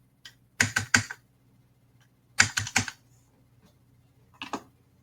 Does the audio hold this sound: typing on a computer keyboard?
yes